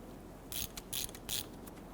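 A brake bleeder screw being snugged down on a 2006-2010 Hummer H3 front brake gives three short bursts of metallic ratcheting, close and fairly quiet over a low background hiss.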